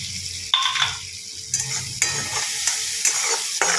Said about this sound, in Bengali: এই মশলাটাকে একটুখানি কষিয়ে নেব।